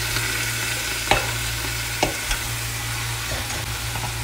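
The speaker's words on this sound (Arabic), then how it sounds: "خلاص قلبتها، حضيف اللحم ونقلبه" Camel meat stirred in a hot pan for white kabsa, a steady loud sizzle broken by a few sharp scraping knocks of the spoon, close up with no talking.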